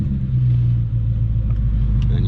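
A BMW E39 540i starting up and settling into a steady idle, heard close with a deep, even rumble and no talk over it.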